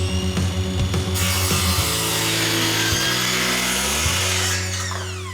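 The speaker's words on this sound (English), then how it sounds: "I clamp down a straight edge to make sure that I get a straight cut all the way across" Power saw cutting straight across the middle of a board clamped under a straight edge: a loud, steady whining cut that holds for several seconds and then tapers off; no speech.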